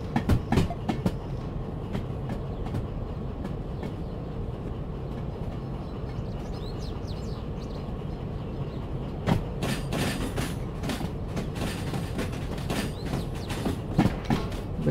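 A locomotive shunts wagons in the Derail Valley train game, with steady rolling rumble and repeated clattering clicks of wheels over rail joints, louder bursts of clanking near the end, at moderate distance and without talk.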